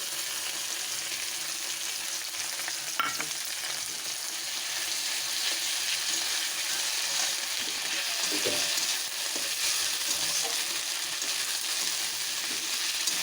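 Ginger and garlic paste sizzles steadily in a hot frying pan for a Bengali mutton curry, a bright continuous fry with a few stirring scrapes partway through and no voices.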